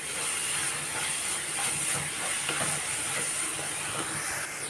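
Onions and curry leaves sauté in a pan for a Kerala-style mackerel fish dish, giving a continuous close hiss and sizzle with faint scraping ticks throughout.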